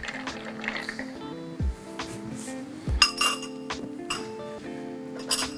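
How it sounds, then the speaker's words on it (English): Ice cubes clink and rattle against glass as a bar spoon stirs an Old Fashioned cocktail, producing a quick run of bright, close chinks and taps with no talking. "we're going to stir about 20 to 30 times"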